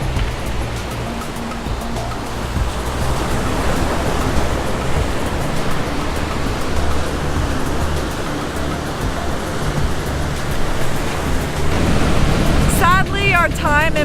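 Broadband surf and wind rush steadily on an empty winter beach in the Algarve, Portugal, with waves washing in continuously, a brief chirpy sound near the end.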